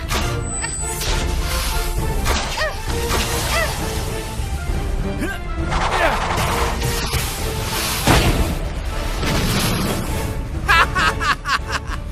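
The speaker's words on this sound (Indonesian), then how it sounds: "Beta bisa mendengar ledakan meriam lagi." Cartoon cannon explosions at sea go off as several booming bursts through a busy, dense soundtrack with music and other effects, and some snickering laughter and voices mixed in.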